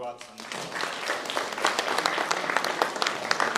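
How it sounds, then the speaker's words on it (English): Audience applause in a library author-talk setting, steady crowd clapping that swells and holds for a few seconds, with a speaker's voice briefly over it. "Please give a round of applause"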